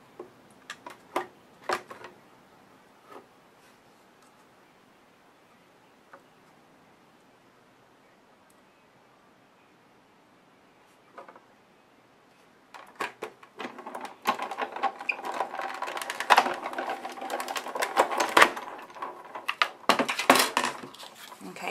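A Cuttlebug die-cutting machine presses paper through a Nestabilities die: a few light clicks, a quiet pause, then a dense grinding crunch with rapid clicks that grows louder and continues to the end.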